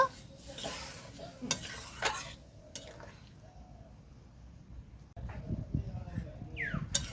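Meat khichuri stirred in a pot after the rest of the water is added: soft, irregular scraping and sloshing over a low sizzle, close but fairly quiet.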